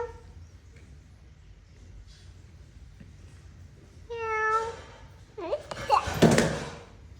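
A cat meows in a few short calls at a home celebrating Christmas and New Year, fairly close, followed by a bump or door thud and a voice nearby.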